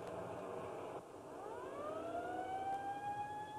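An ambulance siren wails at a distance, its tone sweeping upward and holding a high, sustained pitch as it rings out.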